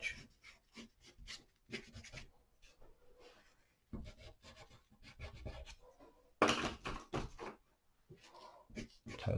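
A coloured pencil, light blue, drawn along an edge on paper, giving short scratchy rubbing strokes in irregular bursts with quiet gaps, close and fairly soft.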